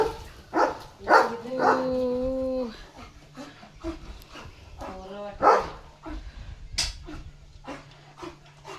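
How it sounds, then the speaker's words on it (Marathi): A German Shepherd dashing about, heard as several close barks, yips and whimpering whines in bursts with short pauses between them, no talking. "बघा आमचा खतरनाक लिओ डॉग आहे तिथे."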